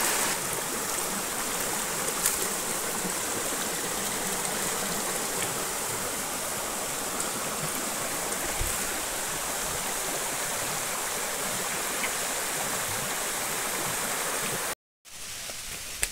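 Rain-fed water rushes steadily at Jatashankar Waterfall in Junagadh, a loud continuous wash of stream and falling water close by that drops out for a moment near the end.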